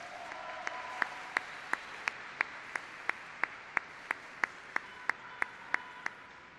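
Applause at a solemn session honoring Black Latin American and Caribbean women: a steady, evenly spaced run of single claps, crisp and moderately close, over a quiet room with no talking.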